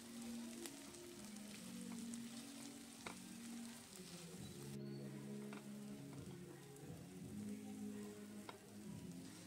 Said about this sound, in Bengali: এবার এটাকে সবজির সাথে মিশিয়ে নিতে হবে।